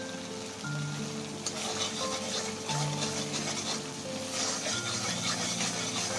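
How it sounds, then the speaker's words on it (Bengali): Spice paste for chilli paneer sautés in oil, giving a soft, continuous sizzle with gentle stirring scrapes and a few faint clinks, fairly quiet and heard without talk. "তো মশলাটা ভালোই কষানো হয়ে গেছে, তেল ছাড়ছে পাশ থেকে"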